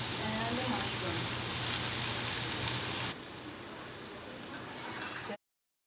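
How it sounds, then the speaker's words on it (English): Onions and mushrooms fry in a pan with a loud, continuous sizzle that suddenly drops to a quieter hiss partway through before cutting off. "And still continue cooking our vegetables, the onions and the mushrooms."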